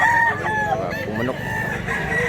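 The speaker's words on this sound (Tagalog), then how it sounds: "Wapo manok ka." Roosters at a farm in Mantalungon, Barili, Cebu give overlapping crows, one close and loud with others farther off, with faint clucking in the background.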